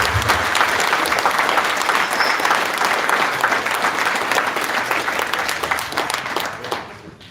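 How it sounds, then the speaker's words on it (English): Loud, close applause from a group at a conference, sustained and steady for several seconds before dying away at the end. "we give the lads a clap there, lads"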